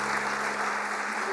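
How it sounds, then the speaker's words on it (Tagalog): A church congregation applauding for the Lord Jesus during a worship service, a broad, sustained wash of clapping from many hands with a faint steady hum underneath. "Pwede bang yung best na palakpak for the Lord Jesus?"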